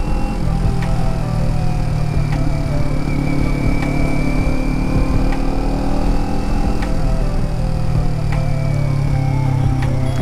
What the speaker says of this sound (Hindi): बस आप लोग साउंड सुनो इस बाइक का